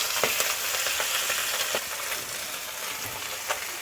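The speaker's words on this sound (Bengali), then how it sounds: "মাথাটাকে আমি উল্টে দিচ্ছি, 2 সাইড আমি ভালো করে ভেজে নেব" A fish head fries in a small amount of oil in a pan, giving a steady, dense sizzle with a few soft clicks as it is turned, near and without voices.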